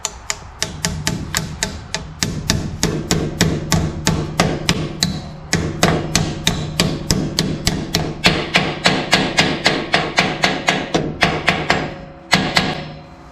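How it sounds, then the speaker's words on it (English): Steady, rapid hammer blows drive a new seal flush into a rear axle housing while installing 3.08 rear gears and positraction, a long run of loud, close metallic strikes with a brief pause near the end. "Hammer it down flush."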